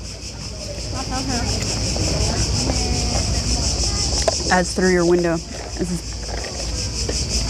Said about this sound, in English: It's funny hearing the cicadas at the same time.